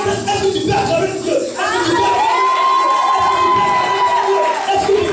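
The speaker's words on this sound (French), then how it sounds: "Est-ce que tu peux acclamer Dieu?" A church congregation roars with loud, sustained cheering and shouting in acclaim of God, a dense crowd sound with excited voices and high calls rising over it.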